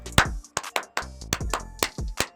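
Hand claps beat out a steady tempo pattern for an arts entrance rhythm test, crisp close strikes recurring roughly every half second with some low resonant tone between them.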